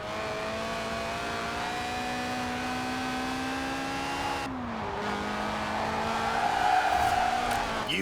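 A car drifting in Forza Horizon 4, engine droning at a held pitch that dips briefly and climbs again, with tyre noise building toward the end, steady and fairly loud.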